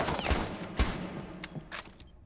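Several sharp shotgun blasts from a video game, spaced irregularly across a couple of seconds at moderate loudness with game noise between, no talking.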